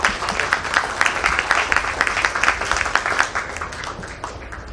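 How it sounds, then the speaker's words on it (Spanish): An audience at a book presentation for a novel about César Vallejo breaks into loud, dense applause that stays strong and then slowly thins toward the end. "por quien pido fuertes aplausos."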